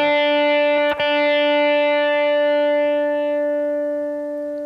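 A distorted electric guitar picks a note that rings out long and sustained, slowly fading away on its own.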